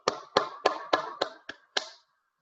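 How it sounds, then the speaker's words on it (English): A single person claps applause on a goal-setting call, seven sharp, close claps in a quick, slightly uneven rhythm, then silence. "Give her a round of applause."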